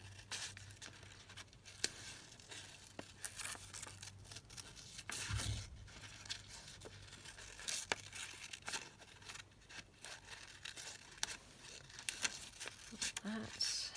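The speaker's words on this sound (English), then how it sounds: "just cut out a couple of the pink flowers" Scissors snip pink flowers from book paper, soft intermittent clicks and papery rustles close by, faint and scattered over a quiet background with a low hum.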